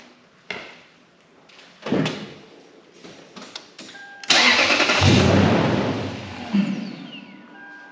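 A Toyota 4x4 truck engine cranks and catches after a few clicks and knocks, then runs loud and steady up close, its idle rumble filling the rest of the stretch.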